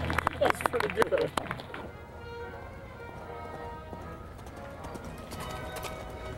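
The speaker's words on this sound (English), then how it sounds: "That's a real horse, Steve." Horse hooves clip-clop in a quick burst of loud, close strikes over the first two seconds, after which only a low ambient hum remains, with speech around it.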